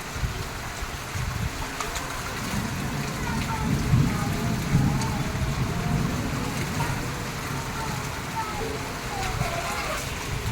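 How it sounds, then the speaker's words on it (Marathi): Heavy rain falls steadily on surfaces throughout, a dense continuous patter, with a faint low rumble that may be distant thunder. "पण खरा पाऊस आज झालाय बरं का"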